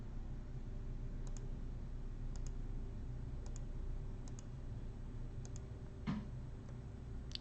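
Keys on a TI-84 graphing calculator pressed one at a time, giving faint, sparse clicks, several of them in quick pairs, over a steady low hum.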